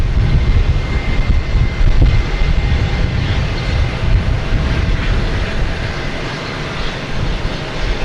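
A Southwest Boeing 737 airliner at Boston Logan Airport, a loud continuous jet engine rumble that swells and fades slightly over several seconds, with no voices.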